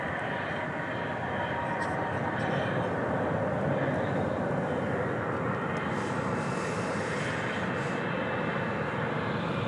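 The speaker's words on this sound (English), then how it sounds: "It's an American flight coming in from Austin, Texas. 737-800." An American Airlines Boeing 737-800 arriving from Austin at DFW at night makes a sustained jet engine rumble and whine, steady and moderately loud across the whole stretch, with no voices over it.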